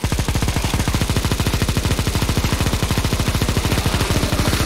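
Sustained rapid automatic gunfire from a CSGO Zombie Escape match on the ze_babylon_v2 map, a loud, dense, evenly spaced stream of shots running without pause.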